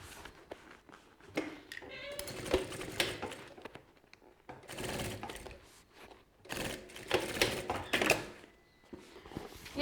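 A sewing machine stitches a seam on a milk-carton backpack in short close bursts of rapid mechanical clatter, separated by pauses and handling noises.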